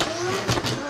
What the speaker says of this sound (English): Gaining some speed, gonna do a conservative handbrake entry.